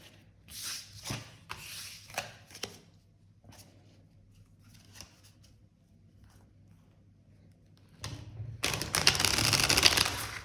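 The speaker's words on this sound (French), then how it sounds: "Je vais bien mélanger le paquet." Oracle cards of a Greek gods and goddesses deck shuffled by hand, soft papery rubs and riffles in short bursts, then a louder, steady stretch of rapid card shuffling near the end.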